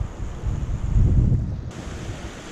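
Surf washes onto a small beach in Bermuda, one soft swell of breaking water rising and fading over a couple of seconds, mixed with wind buffeting the microphone.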